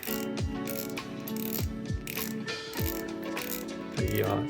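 The drag knob of an ultralight spinning reel being unscrewed, giving close, crisp ratcheting clicks in short bursts of about six turns, each click sharp and mechanical.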